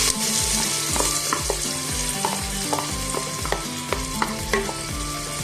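Finely chopped onions frying in two tablespoons of oil in a pan, a steady close sizzle with regular scraping stirs of a spoon, no voices.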